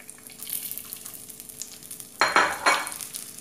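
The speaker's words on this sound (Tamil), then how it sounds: "இப்போ வெங்காயத்தையும் கருவேப்பிலையும் சேர்த்துக்கிறேன்" Onions and curry leaves drop into hot oil for a fish curry, a steady close sizzle that surges into loud crackling bursts near the end, with faint stirring and no talk.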